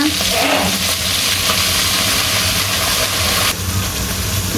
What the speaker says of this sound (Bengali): এবার আমি মশলাটা ভালোভাবে কষাই নেব